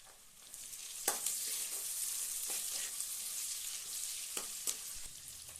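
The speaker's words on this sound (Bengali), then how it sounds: "এবার আমি পেঁয়াজ দিলাম, পেঁয়াজটা লাল লাল করে ভেজে দেবো।" Onions fry in hot oil alongside whole spices and bay leaf for a prawn malai curry, giving a continuous close sizzle broken by occasional sharp clicks of a spoon stirring the pan.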